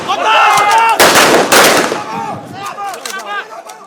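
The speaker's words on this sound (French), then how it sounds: "Coup de feu nourri." Sustained gunfire in a forest during a commando training exercise: a dense burst of rapid shots in the middle, with scattered shots and a voice speaking around them.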